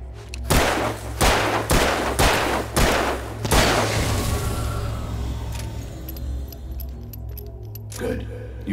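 Gunfire rings out in the video game Alan Wake: six sharp, evenly spaced shots crack loudly in quick succession and then fade into a lingering ringing tail, with faint clicks afterward.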